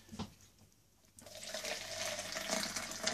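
Water is poured into a container of gravy granules as a steady, close running-water fill that swells after a brief quiet start and continues loudly to the end, with no voices.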